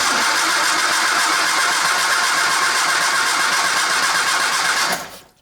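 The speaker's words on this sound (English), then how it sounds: "button starter over here that I operate it with, so I can do it from in here" A Triumph Spitfire engine cranks from a remote starter button with the ignition off, a loud, continuous mechanical churning close by that runs steadily for about five seconds before cutting out abruptly.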